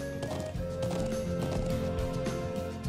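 Horse hooves clopping steadily while riding in the video game Trails of Cold Steel, a continuous rhythmic gait mixed under game music with sustained tones.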